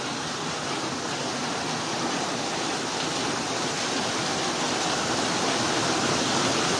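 Floodwater rushes through a city street during Super Typhoon Carina in Quezon City. The current makes a loud, unbroken roar that stays level for the whole clip.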